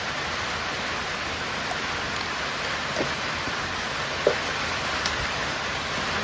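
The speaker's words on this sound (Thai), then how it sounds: "ฝนตกก็ค่อยได้ยินเลยจ้ะ" Steady rain falls throughout as an even, continuous hiss, with a few faint drips and taps standing out, and no one speaking.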